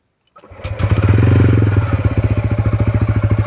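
A TVS Ronin 225 cc motorcycle engine cranks and catches on a one-touch start, quickly rising to a loud, steady idle with a rapid pulsing putter close by.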